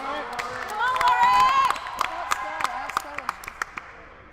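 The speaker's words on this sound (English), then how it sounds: "Lots of cheering by our incredible audience." Small crowd of about thirty cheering at a men's first-team playoff final against Derby, loud shouts and whoops at first, then scattered individual claps ringing out while voices fade.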